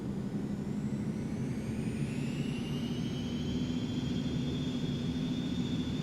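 A steady airplane engine drone on landing approach with full flaps in the flight simulator X-Plane 11, a continuous even hum with a rising whine layered on top and no talk.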